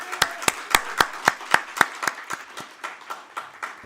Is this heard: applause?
yes